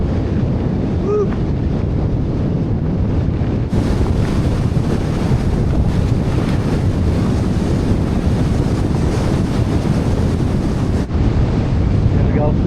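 Relentless strong wind at a freezing winter snow wildcamp, loud, continuous roaring and buffeting across the microphone with no letup, a brief shift in tone partway through.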